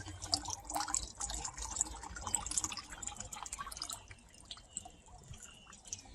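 Water drains and drips from a submersible ROV frame in irregular small splashes, fairly close and quiet, thinning out toward the end.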